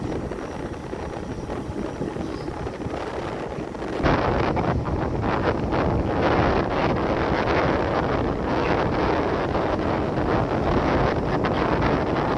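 Wind gusts pushing against a mobile phone microphone outdoors during Girivalam, a loud, rumbling buffeting roar that jumps in strength a few seconds in and stays heavy and continuous, with no talking.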